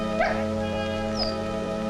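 A dog shut in a cellar in a 1946 film whimpers and yips in short, thin cries over a steady low hum, the sounds faint and spaced out.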